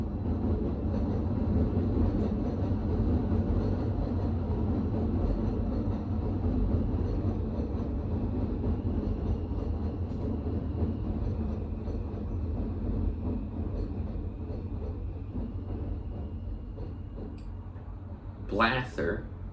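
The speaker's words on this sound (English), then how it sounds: "There's a train." A train rumbles past in a steady, heavy roar, with a brief high squeal near the end.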